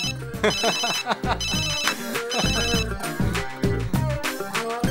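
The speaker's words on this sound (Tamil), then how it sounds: "நான்சி ஃபோன் அடிக்க ஆரம்பிச்சிச்சு" A phone ringtone plays in short repeated electronic bursts over a busy background. Indoor TV-drama setting, moderately loud, with no speech on top.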